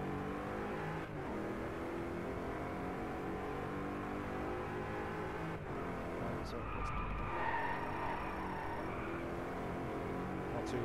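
Car engine in the racing video game DriveClub, revving and accelerating with a rising and falling drone, fairly quiet and steady, with a brief louder surge partway through.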